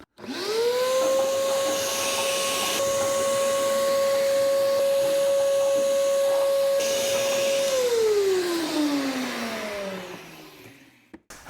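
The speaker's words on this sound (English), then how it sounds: "This is probably a good time to go ahead and vacuum everything out while you got everything exposed and open." A vacuum cleaner runs while cleaning out a car trunk, spinning up quickly into a steady, loud whine that holds for several seconds and then winds down as it switches off.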